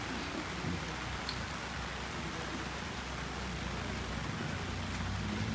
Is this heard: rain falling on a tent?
yes